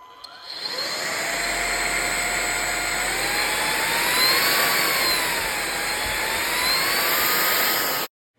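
A Belife cordless vacuum cleaner's 380 watt motor whirs up and runs with a high, steady whine that rises and dips slightly in pitch, then cuts off abruptly.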